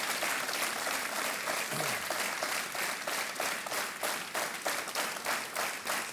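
Sustained applause from the studio audience on the Hindi quiz show Kaun Banega Crorepati, a steady wash of many hands clapping that continues evenly throughout.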